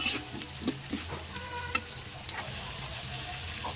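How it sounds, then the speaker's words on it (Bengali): Taro leaves sizzle and fry steadily in a pan, with occasional clinks and scrapes of stirring throughout. "আর একটু ভালোভাবে ভেজে নেবো।"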